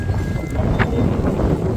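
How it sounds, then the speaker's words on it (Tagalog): Strong wind blows outdoors beside a lechon roast, a low gusty rumble buffeting the microphone throughout with no talking. "grabe lakas ng hangin guys narinig yung hangin no?"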